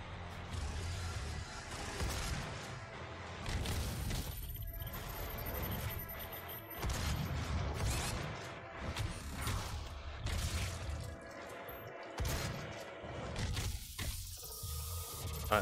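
Doom (2016) game audio carries a burst of explosive crashes and rumbling booms among mechanical clanks and shattering noises, fairly loud and broken into several hits across the stretch.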